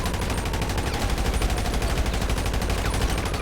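GTA Online gunfire rattles off in a rapid, continuous stream of shots, loud and close, with no talk over it.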